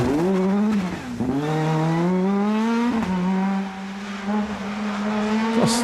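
A modern Peugeot rally hot hatch engine screams loud and close, rising through revs with sharp gearshift dips and pops between pulls, and its harsh harmonic note stays strong throughout without talk.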